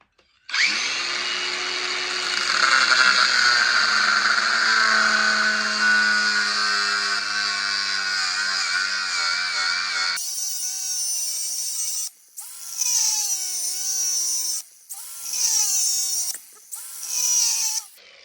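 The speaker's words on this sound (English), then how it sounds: "let's grind this thing apart and see what we're looking at" A power grinder cutting apart a rifle scope, a loud steady high-pitched whine for about ten seconds, then several shorter bursts of grinding with brief pauses between them, close and alone.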